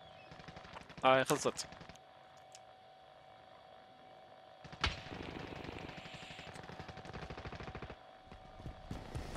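Gunfire and shelling in a video game: a sharp burst of rapid shots near the start, then a heavy blast followed by a steady rattle of automatic fire, with voices talking over the action.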